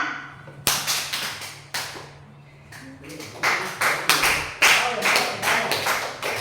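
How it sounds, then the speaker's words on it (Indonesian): Scattered hand claps from a group following a clapping instruction during a classroom concentration exercise, coming in uneven bursts with gaps between, and a voice talking over some of them. "Tepuk tangan."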